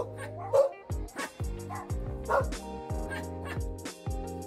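Dogs barking repeatedly in quick, uneven bursts, with yips and whimpering mixed in, close and moderately loud.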